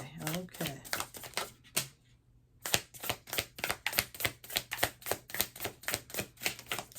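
Rapid crisp riffling of tarot cards in steady rhythmic bursts, a brief pause, then the shuffling resumes, close and clear.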